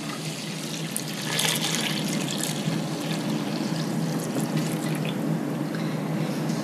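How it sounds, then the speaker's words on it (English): Hot water running steadily from a tap into a bucket of homemade liquid laundry soap mix, a continuous loud rushing splash with no speech over it. "you're going to finish filling your bucket up with hot water"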